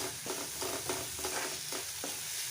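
Vegetables tossed with ginger garlic paste in a frying pan for veg cutlets, with a steady sizzle and repeated scraping strokes of a spoon at an even rhythm, close and moderately loud, no voices.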